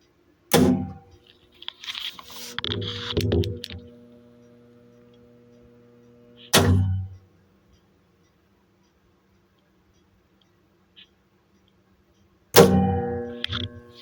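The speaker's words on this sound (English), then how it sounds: "See the relay engage there." Relay in a 1992 ACA Compulert siren controller clicks on and off in a few separate sharp clacks, each followed by a brief mechanical buzz, with long quiet gaps between them.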